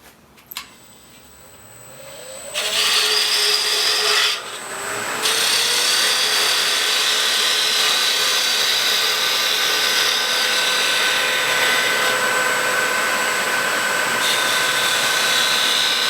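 Wood turned on a lathe with a 45-degree bevel bowl gouge while shaping a drawer pull, a steady, loud, close scraping hiss of the cut that runs continuously for many seconds with a brief dip partway through.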